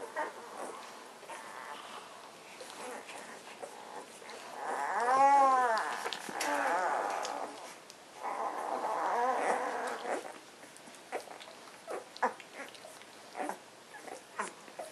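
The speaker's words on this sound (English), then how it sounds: "And they're making their little puppy noises." Puppies whimper and growl softly in a quiet room, with faint squeaky whines and a louder cluster of whimpering midway, followed by scattered small grunts and rustling movement.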